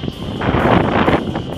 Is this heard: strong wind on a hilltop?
yes